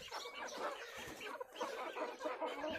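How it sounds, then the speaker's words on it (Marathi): A flock of fifty to sixty village chickens clucks and chatters continuously, fairly faint, with overlapping calls and no talking. "हे सगळ्या कोंबड्या दिसत आहेत कोंबड्या"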